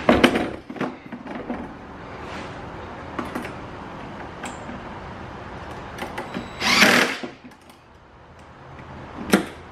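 A power drill drives fasteners while a compact sit-on creeper is assembled in a garage, with several short bursts, one longer louder whir near the middle, and quieter handling noises between.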